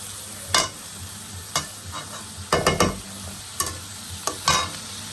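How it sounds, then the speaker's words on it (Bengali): Tomatoes and onions frying in a pan for a chital fish kofta recipe, with irregular bursts of spoon stirring and scraping over a low, steady sizzle, close and fairly quiet. "টমেটোগুলো আমি আবার ভাজা ভাজা করে নেব লাল লাল করে"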